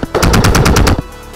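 A Lancer Tactical MMC recoiling airsoft electric gun fires a short full-auto burst outdoors at an airsoft field, about eight loud, fast, evenly spaced mechanical clacks close to the microphone, with no talking.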